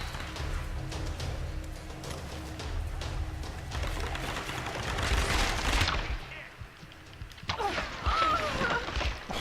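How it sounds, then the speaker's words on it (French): Gunfire in the video game Tomb Raider rattles at the player in bursts under a busy game soundscape with cooing birds and swelling ambient noise. "Ah mais on me tire dessus."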